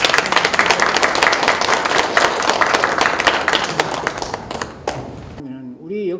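An audience at a local history research presentation gives sustained applause, dense and close, that thins out near the end before a voice begins over the last moments.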